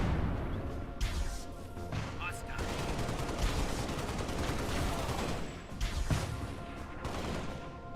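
Rapid gunfire and blasts fill a Halo Spartan Assault battle, with sharp bursts and a heavier boom near the one- and six-second marks over continuous combat noise.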